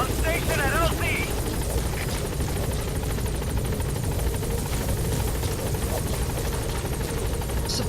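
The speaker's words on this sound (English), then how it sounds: "Support helicopter has arrived." A support helicopter arriving in Metal Gear Solid V: The Phantom Pain: its rotor thumps steadily and loudly, a constant heavy whir close by, with brief electronic chirps near the start.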